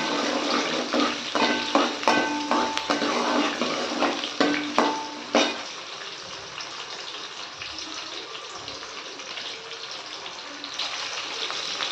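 Onions sizzle in a pan while being cooked down for a Tamil fenugreek kuzhambu, with a run of close, rhythmic scraping stirs early on that give way to a steadier, quieter frying hiss.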